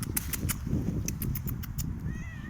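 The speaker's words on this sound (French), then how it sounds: "je sais pas si vous entendez, ils ont tous miaulé" Several cats meow in short overlapping calls against a rumbling outdoor background, with a thin wavering cry toward the end.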